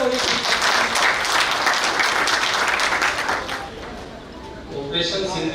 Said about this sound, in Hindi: पहले कवि को आपकी तालियां बजाएं।